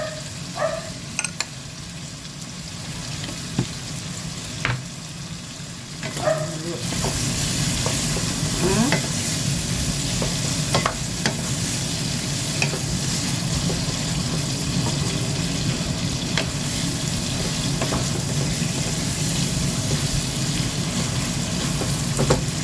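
Food frying in a pan with soy sauce and chicken powder, stirred now and then with scraping utensil clicks over a constant loud sizzle that swells partway through and keeps going without talking.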